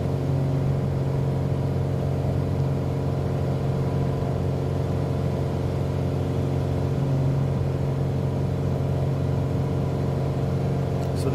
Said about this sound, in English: Listen to the engine of this thing.